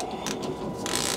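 A ratchet wrench turns to tighten bolts on a washer trunnion during bearing replacement, its mechanical clicking rattle steady and close for a brief moment with no talk.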